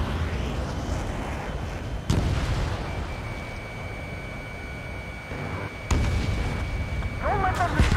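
Explosions and heavy fire striking a harbor in the Ace Combat 7 air-combat game: a dense rumbling barrage with two sharp loud blasts, continuous heavy booming underneath, and voices talking over the chaos.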